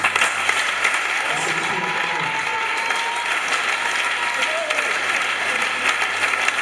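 A church congregation at a Sunday service applauds the Lord with sustained, loud clapping that fills the room at an even level throughout.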